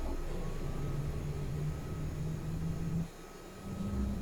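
A Mil Mi-8 helicopter's auxiliary power unit spins up at startup as a steady turbine whine and low rumble, with a brief dip and change in tone near the end and no talk over it.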